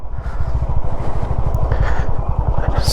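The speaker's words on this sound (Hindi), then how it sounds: "देखो, चूना टेल्कम पाउडर से भी बारीक रेत में गाड़ी ऐसे जा रही है, कचड़ कचड़ कचड़ कचड़ कचड़" An offroad vehicle ploughs through talcum-fine sand in Zanskar, its rear tyre slipping as the engine beats in a fast, even low-pitched rhythm, near and steady throughout.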